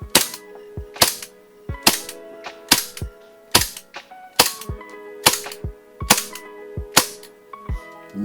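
G&G GPM1911 gas blowback airsoft pistol, an Iwo Jima anniversary edition, fires about ten sharp, loud, close shots in a steady rhythm, each crack followed by the clack of the slide cycling, with no talk.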